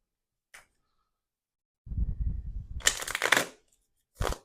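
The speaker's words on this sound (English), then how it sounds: "Give them another shuffle" Playing cards riffle in a quick shuffle lasting about a second, then snap together, with a couple of short flicks before and after in a quiet room.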